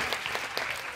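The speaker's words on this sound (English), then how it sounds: "So can everyone give Jay a round of applause?" A fan festival audience applauds a participant for a reading, giving a brief burst of scattered clapping from many hands, moderately loud and over within a second.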